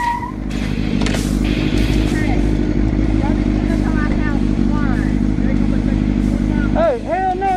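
A motorcycle engine drones steadily through a played video clip, joined by clatter and a brief tire squeal, with a busy background of other vehicle noise.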